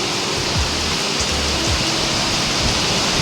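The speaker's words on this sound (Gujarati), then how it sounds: "વરસાદ પડે છે મિત્રો, જુઓ બહુ વરસાદ આવી ગયો અમારે, ફૂલ વરસાદ." Heavy rain pours down on a cotton field during a sudden downpour, a loud, dense and continuous hiss with occasional low rumbles beneath, steady throughout with no voices.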